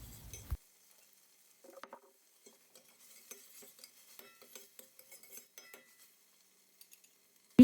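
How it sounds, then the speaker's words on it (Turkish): Meat sautéed with red pepper paste in a pan, heard as faint, scattered utensil scrapes and clinks with a soft sizzle between quiet gaps, ending in a sharp knock. "Birlikte kavuruyorum."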